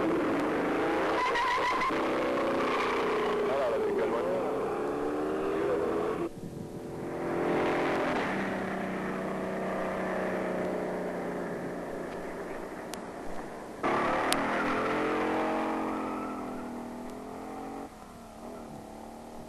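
Ford Fairlane making drag-strip test runs, engine revving and accelerating loudly through gear changes with tire squeal, fading briefly and then building again, heard alone.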